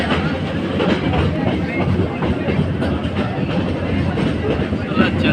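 A train runs through Goram Ghat near Marwar junction with a continuous, loud rumble and rhythmic wheel clatter close by, steady throughout.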